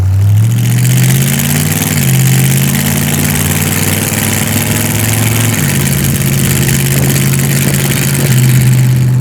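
A WW2 warbird-inspired Willys Jeep hot rod drives with its engine loud and close throughout, a steady low rumble rising and dropping in pitch as the throttle shifts, with no talk over it.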